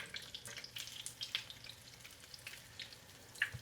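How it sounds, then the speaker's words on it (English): Faint, steady sizzle of okra fritters frying in oil, with soft crackles and a few small pops, no voices. "Frying them like a little pancake, ain't we?"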